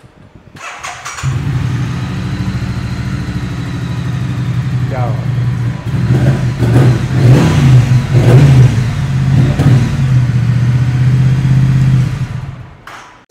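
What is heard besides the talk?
900cc parallel twin motorcycle engine starting and revving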